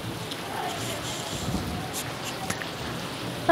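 Steady rain falling outdoors, a dense, even hiss with faint wind that stays loud and constant, with no voices heard.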